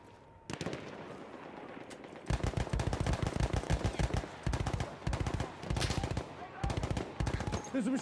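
Machine gun fire in the Battlefield 1 video game: a single shot, then long, close, loud rapid-fire bursts broken by short pauses, with faint background game noise between them.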